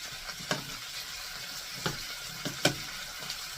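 Onions and peppers fry in butter in a pan, a soft steady sizzle broken by occasional sharper crackles and stirring clicks, close and fairly quiet.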